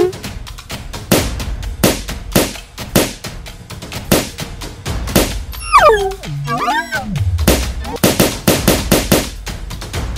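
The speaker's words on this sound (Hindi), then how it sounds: "तुम्हारा बैलून फोड़ने का टाइम आ गया है। एक एक को फोड़ दूंगा" Cartoon balloons bursting one after another in a Hindi children's animation, a rapid series of sharp loud pops in irregular rhythm, broken midway by springy boing-like sliding effects before the popping resumes.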